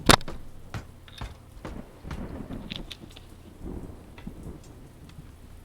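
Rain falls steadily through a thunderstorm in the video game Exodus Borealis, opening with a sharp, loud thunderclap, then rumbling thunder and patter of raindrops continuing at moderate level with no voices.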